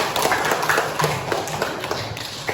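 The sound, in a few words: classroom applause for a student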